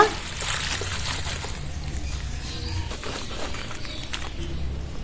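Soft running and splashing water as cut water lily stems are rinsed, a faint continuous trickle with light handling noises.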